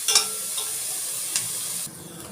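Capsicum frying in a pan for white sauce pasta gives a steady, close sizzle with a couple of soft stirring scrapes, ending in a quieter hiss.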